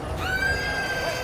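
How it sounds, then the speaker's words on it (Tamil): A horse at the Anthiyur temple festival in Tamil Nadu gives a single close, loud whinny, with a rising then wavering high tone over crowd and ambient noise. "கத்துது குதிரை"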